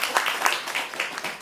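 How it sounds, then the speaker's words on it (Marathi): An audience at a gathering bursts into applause, a dense, moderately loud patter of many hands clapping continuously throughout. "सर्वांनी टाळ्या पिटा कडकडाट."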